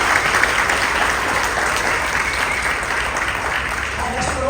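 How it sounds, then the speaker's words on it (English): Audience applause at a car event media day, a dense, loud, continuous wash of clapping that holds steady throughout. "Give them a nice round of applause"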